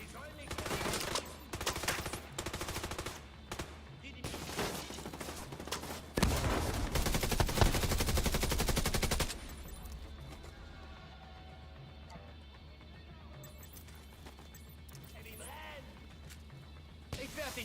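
Rapid gunfire in The Division 2, dense bursts of automatic shots in the first half with a heavy sustained volley, fading into quieter background noise with a voice talking.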